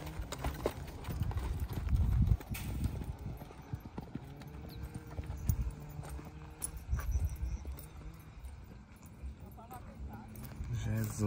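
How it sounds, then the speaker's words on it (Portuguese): A horse walks with steady clip-clopping hooves, close and clear, while people talk and exclaim excitedly over the hoofbeats. "Camila, esse cavalo é brabo, Camila."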